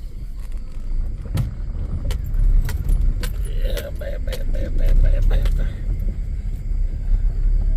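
A gate unlocked and swung open, with keys jangling near a street closed off by a barrier, against steady car and road rumble and brief metallic clinks.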